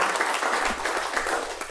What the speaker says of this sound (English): let's give Aaron a round of applause on that